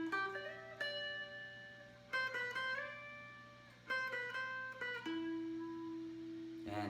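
A guitar plays the solo, a phrase of ringing notes with smooth slides and bends, the last note held and sustained, close and unaccompanied.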